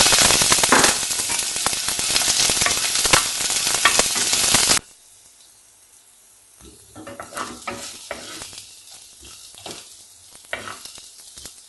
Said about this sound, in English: Now fry the chopped onion.